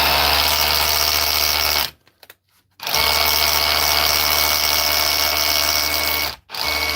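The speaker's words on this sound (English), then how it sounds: "See if she's chiseling. Oh, a good noise off her." A rotary hammer drill runs loud and close in chiseling mode, a harsh rattling hammer, stopping briefly twice before starting up again.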